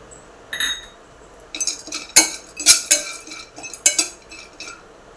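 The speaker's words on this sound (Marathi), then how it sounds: "आता आपण ड्राय फ्रूट्स परतून घेऊया 2 मिनिटभर." Dry fruits are roasted and stirred in a metal pan, producing bright clinks and scraping knocks of a spoon against the pan in irregular strokes, fairly close and loud.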